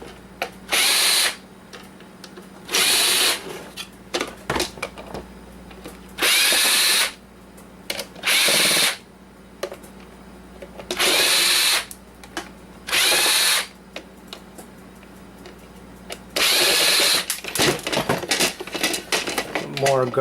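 A power drill unscrews parts while a cheap coffee maker is taken apart, whirring in about ten short bursts with small clicks and rattles of parts in the pauses.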